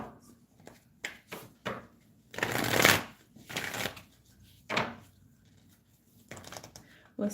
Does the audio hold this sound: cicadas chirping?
no